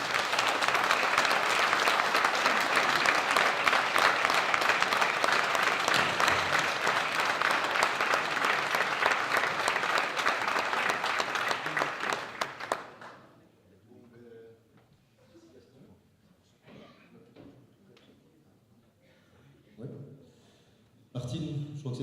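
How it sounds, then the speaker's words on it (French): Loud, dense audience applause at a conference fills the first thirteen seconds, then breaks off into a quieter room with scattered small knocks and a brief final burst of clapping. "Mesdames et messieurs, je vous demande d'applaudir à la 21e place, Monsieur Gaston Cordier"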